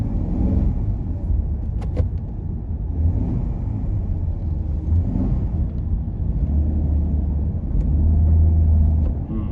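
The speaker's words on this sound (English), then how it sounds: "Seems to be slipping a gear there." A Ford EA Falcon driving with its transmission slipping a gear, heard from inside the car as a loud, steady low engine and road rumble with a slight swell near the end, and no voices.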